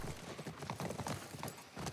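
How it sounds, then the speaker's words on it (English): Horse hooves gallop across the ground in The Last of Us remake video game, a quiet, steady, rhythmic clip-clop of rapid hoofbeats repeating without pause under a soft wash of background noise. "you'll see Joel will eventually get some speed out of the horse"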